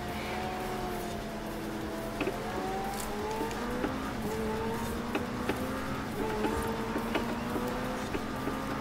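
A race car engine revving steadily in the video game Forza Horizon 4, pitch stepping up through gear changes, with faint tire and track noises and no voices.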